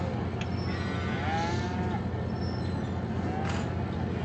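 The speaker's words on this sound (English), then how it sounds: "Now you're going to see the cows." Cows mooing in Farming Simulator 25 near a slaughterhouse in a valley setting, long drawn-out lowing calls over a constant rumbling background drone.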